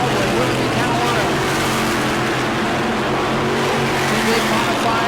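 Modified race cars running single file late in a 602 Mod race at New Smyrna, a steady dense engine roar throughout with a commentator talking over it.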